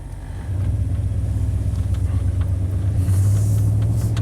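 Engine rumble of a 1988 Chevy K1500 truck under acceleration into overdrive, a loud, low, steady drone that steps up in level and pitch about half a second in, heard from inside the cab.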